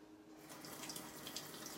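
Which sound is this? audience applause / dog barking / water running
water running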